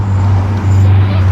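Honda S2000 AP2 sports car cruising, a steady low engine drone with road and cabin noise, loud and continuous through the short stretch.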